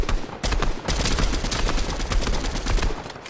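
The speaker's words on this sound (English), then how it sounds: "They're shooting each other." Video game gunfire from players shooting each other, with loud continuous rapid volleys and overlapping shots close by throughout.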